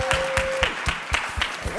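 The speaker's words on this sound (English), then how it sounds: "So let's give them a big round of applause." Rhythmic clapping from an audience at a live-streamed event, steady regular claps close by with a low thump under each, and a brief tone heard near the start.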